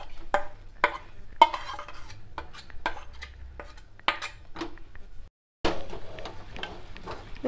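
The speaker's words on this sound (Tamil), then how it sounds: "நல்லா கலக்கிக்கிட்டே இருக்கணும் கொஞ்ச நேரம்." Spoon scraping and clinking against a kadai while coconut milk peda mixture is stirred, irregular close taps and scrapes with brief pauses and no talking.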